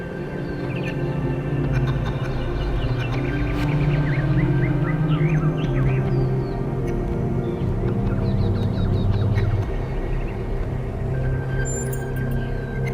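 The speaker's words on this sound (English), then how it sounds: "Do you hear the birds chirping outside the door?" Birds chirping outside a door in The Talos Principle 2, a continuous chorus of small tweets and trills over a steady low ambient hum, with no voices.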